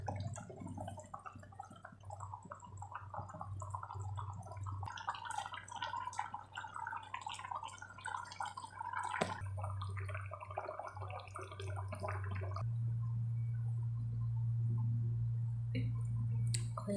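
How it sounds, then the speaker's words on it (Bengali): Rohu fish curry with eggplant and potato boils in a pot as fried fish goes in, giving soft close bubbling and dripping over a steady low hum, with light clicks and splashes. "ঝোল বলক এসে পড়েছে, এখন দিয়ে দেবো ভেজে রাখা মাছ।"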